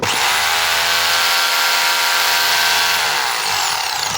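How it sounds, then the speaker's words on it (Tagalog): A DeWalt D25033 rotary hammer drill runs at full speed for several seconds, a loud, steady high-pitched motor whine with a buzzing hammer rattle, close up and without speech. "Tingnan natin kung gumagana yung hammer drill."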